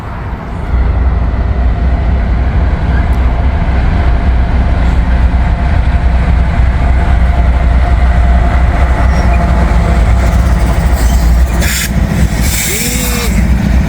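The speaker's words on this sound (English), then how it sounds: "That's an old locomotive, I think." A freight train hauled by an old locomotive rolls past nearby with a loud, steady rumble and rattling wagons, and a brief horn-like tone near the end.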